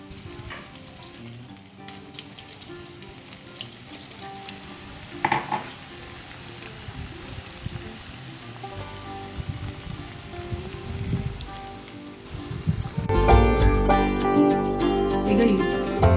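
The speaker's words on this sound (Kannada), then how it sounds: "ಈಗ ಪನ್ನೀರನ್ನ ಡೀಪ್ ಫ್ರೈ ಮಾಡ್ಕೊಳ್ಳೋಣ." Paneer cubes deep frying in hot oil, a soft crackling sizzle that grows denser and louder toward the end as the frying bubbles up strongly.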